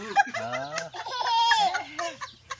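A chicken clucks and squawks close by in short, chattering bursts lasting a few seconds, with a low hum underneath.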